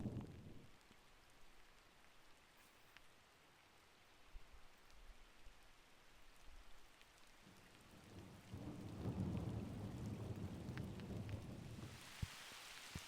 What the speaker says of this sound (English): as you can hear some thunder